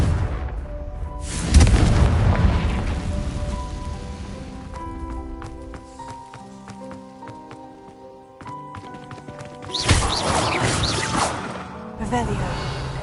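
A Confringo fire spell in Hogwarts Legacy bursts with a loud booming whoosh, followed by a stretch of quieter musical tones and a second strong explosive rush near the end, with a voice speaking.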